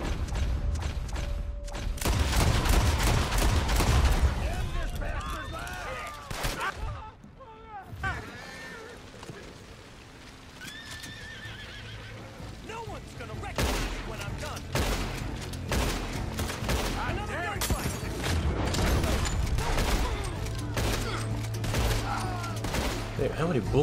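Gunfire in the video game Red Dead Redemption 2 crackles in dense, repeated volleys through most of the stretch, loud and close, easing briefly in the middle before picking up again under occasional voices.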